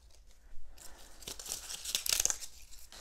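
Quiet crisp rustling and tearing as greenery stems are stripped and snipped for a hexagon wedding ceremony arbor, a cluster of close crackles and brief snaps without speech.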